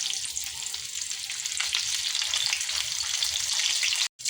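A large pomfret fries in hot oil on a flat tawa, giving a steady, close, bright sizzle with crackling spits that continues unbroken, briefly cutting out near the end.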